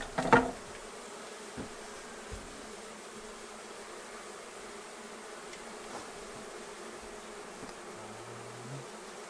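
A honey bee swarm being removed from a wall gives a faint, steady buzzing hum that runs throughout, with a sharp knock near the start and a few soft bumps later.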